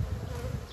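Honeybees hum in a dense, continuous buzz, close up and steady throughout, with no voices.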